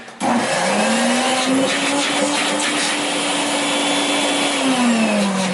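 A 1960s Shetland Lewyt disposable vacuum cleaner switches on abruptly and its motor quickly rises to a loud, steady whine, running close and alone for several seconds.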